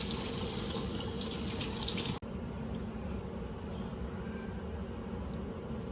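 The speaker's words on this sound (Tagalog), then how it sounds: "Hugasan natin ito mabuti guys para mawala yung mga dumi" Pork is rinsed under a running kitchen tap: a steady, close wash of flowing water with a brief click partway through, after which the stream continues slightly duller.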